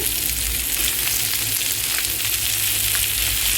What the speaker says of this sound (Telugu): ఫిష్ ఫ్రై అవుతుంది చూడండి, ఎంత చక్కగా వస్తున్నాయి ముక్కలు